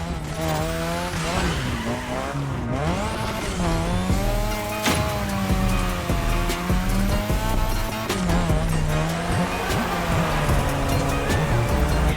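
Car drifting on a track in The Crew Motorfest, a loud engine wailing and rising and falling with gear changes while tires squeal in long continuous screeches, close and sustained without talk.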